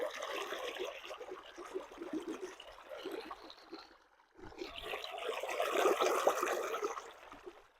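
Well water pours through a pipeline into a farm channel, a steady rushing gush that breaks off briefly midway and then resumes fuller and stronger.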